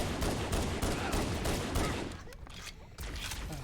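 Rapid bursts of automatic gunfire from the Halo CE Anniversary game, dense overlapping shots that ease off partway, with a few sharper single cracks after.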